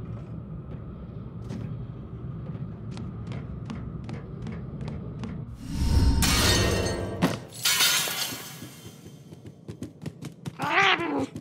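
A cat in the video game Murdered: Soul Suspect, heard as a series of short meows over a low game ambience, followed by a loud shattering crash of breaking glass and then scattered clatter and a final drawn-out yowl.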